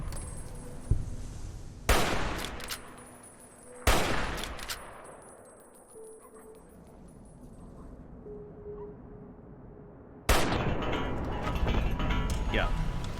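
Hunting rifle shots in Fallout: New Vegas, three loud sharp cracks spaced about a second or two apart with a ringing decay, then a louder burst of combat noise near the end; speech is present.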